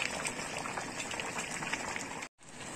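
Water simmering and bubbling in a pot of green peas pulao rice on a high flame, a soft continuous crackling fizz, quiet and close, with a brief dropout near the end.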